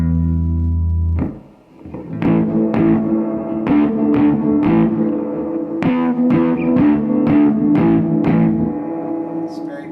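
An electric guitar on its neck pickup with all tone controls turned fully down, giving a dark, bassy sound: one sustained chord, then about a dozen close, evenly spaced plucked notes and chords ringing out alone.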